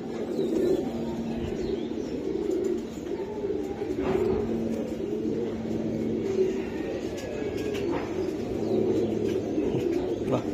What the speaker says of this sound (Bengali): ভাই, এই যে আরেকটা কবুতর, মাদিটা